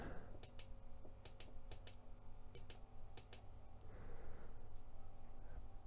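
A computer mouse clicks while someone works in Ableton Live 9 Lite music software, sharp close clicks coming singly and in quick double pairs, several bursts spread over a few seconds against a low room hum.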